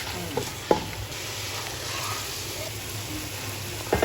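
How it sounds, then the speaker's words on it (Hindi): Chicken fries with onions and tikka masala in a pan, a low steady sizzle running throughout with a couple of sharp utensil knocks against the pan, close by and with no talk. "तो अभी यहाँ चिकन जो है भून गई है प्याज के साथ।"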